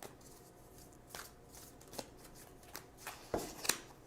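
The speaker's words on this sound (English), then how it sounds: "So now let's choose a couple cards for guidance." Tarot cards shuffled by hand, soft papery riffles and slaps coming in uneven bursts over about four seconds, close and fairly quiet with no talk.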